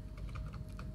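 A short burst of light, quick keystrokes on a computer keyboard, faint and close, over a steady low background hum.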